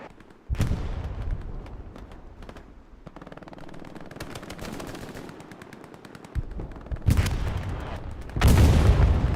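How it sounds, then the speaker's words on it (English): Heavy gunfire and booming blasts in a World War II-style video game battle at Omaha Beach, Vierville, with artillery rounds and proxy satchel explosions; rapid machine-gun bursts give way to loud, close detonations. "Proxy satchels, artillery rounds."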